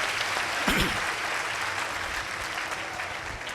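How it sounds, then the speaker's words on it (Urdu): A pilgrimage crowd at an annual Holy Mother Mary gathering claps in a dense, even burst of applause that carries on steadily for a few seconds. "مقدسہ ماں کے لیے زوردار تالیاں بجائیں"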